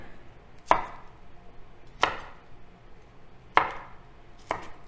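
Four sharp knife strikes through cauliflower florets on a cutting board, spaced about a second and a half apart, close and crisp with quiet pauses between.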